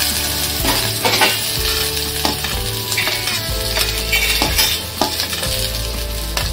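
Onion sautés in a pan for Agri-style crab curry, a close, steady sizzle broken by repeated scraping and clinking strokes of a spoon stirring, with no voices.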